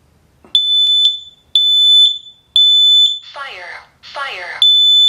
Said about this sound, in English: it's a smart alarm where it will talk to you